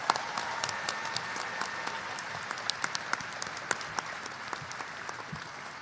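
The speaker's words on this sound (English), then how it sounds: "Please join me in a round of applause for our president" A large audience at a university new-student convocation applauds the president, producing a dense, sustained clapping with individual sharp claps standing out throughout.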